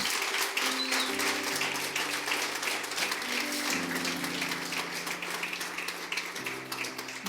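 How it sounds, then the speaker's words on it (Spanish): A church congregation claps for the Lord during a Palm Sunday service, a steady dense patter of many hands sustained throughout, with sustained music tones running beneath. "Así que dale un fuerte aplauso al Señor."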